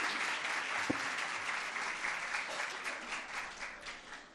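A crowd claps in sustained, dense applause at an exhibition opening, loud at first and gradually tapering off toward the end.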